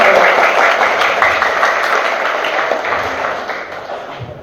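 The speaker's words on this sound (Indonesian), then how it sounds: "Tepuk tangan untuk Bapak" Audience at the AMIK Ibnu Khaldun Palopo 2025 graduation ceremony applauds in a dense crowd patter, loud at first and slowly fading over a few seconds.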